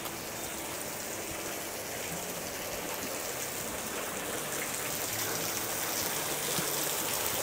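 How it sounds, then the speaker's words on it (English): Water trickles and splashes steadily down a cliff face in a small waterfall, a continuous close hiss like rain falling on stone. "there's water dripping down in a little waterfall."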